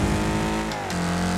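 A racing car engine in Wreckfest revs up sharply on a downshift, with a steady mid-pitched growl, a brief dip, and then a rising whine, loud and close with no talk.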